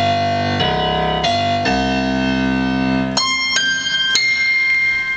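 Grand piano bass notes from the iGrand piano app on iPad and iPhone, several deep held notes struck one after another with long sustain, then brighter ringing tones, close and clean with no talking.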